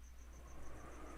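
Crickets chirping in a steady, evenly spaced pulse, faint and constant under a low background hum.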